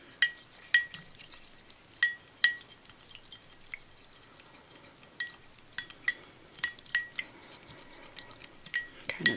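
A tool stirs acrylic paint in a small container, giving repeated light clinks and scrapes against the sides at an uneven pace, close and fairly quiet.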